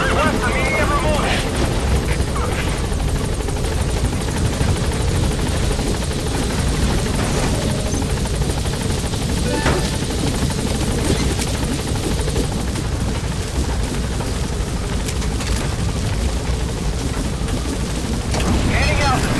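A helicopter in the Metal Gear Solid V video game thrums loudly and continuously at close range, a dense rotor roar that fills the whole stretch while game voices talk over it.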